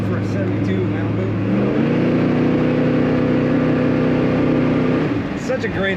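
A 1972 Chevrolet Malibu Convertible V8 with Sniper EFI runs close by, a steady throaty engine drone with a deeper tone that rises slightly in pitch and holds before easing off, with a voice speaking over it.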